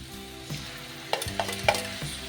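Beaten yogurt poured into a hot pan, a soft steady sizzle with a few sharp scrapes and clinks of a spoon stirring, close and fairly quiet, no talking.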